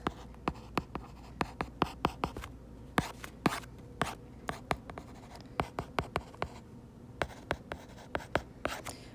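Pen strokes scratch across paper while calculus notes are written by hand, a quiet, close series of short, irregular taps and scrapes with brief pauses between them.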